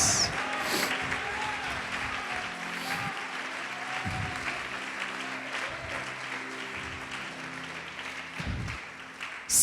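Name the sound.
congregation applauding in church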